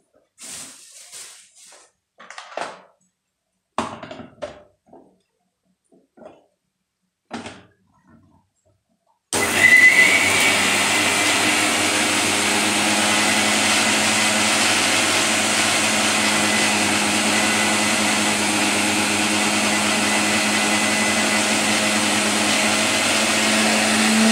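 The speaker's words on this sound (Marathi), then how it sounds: "ही चटणी आता मिक्सरवर बारीक करून घ्यायची" Mixer grinder blending curry leaf chutney made with oil instead of water: a loud, steady motor whine and churning that starts abruptly after a stretch of talking, then runs continuously to the end.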